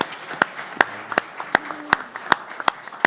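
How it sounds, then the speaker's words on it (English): Sparse, scattered claps from a small audience at a boxing press conference, single sharp hand claps spaced irregularly and ringing in a quiet room, with no voices. "So give her a round of applause for that."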